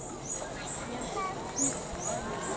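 A few high, sliding signature whistles from a dolphin at Planète Sauvage zoo, repeated and faint over a quiet underwater hiss.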